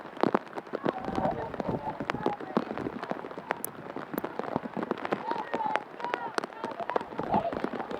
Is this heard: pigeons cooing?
no